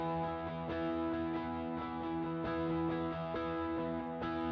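Thick, distorted guitar chords ring continuously at a steady level, with new strums changing the chord every second or so and no voices.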